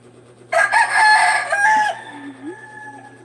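A rooster crows loudly and close by, one long strained call rising and falling over about a second and a half, then fading into quiet background hum.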